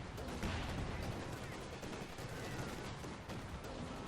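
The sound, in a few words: artillery fire in video game Company of Heroes 2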